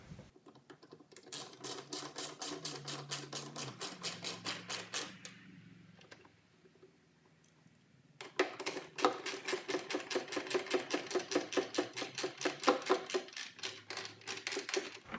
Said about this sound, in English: Install these headlight bolts.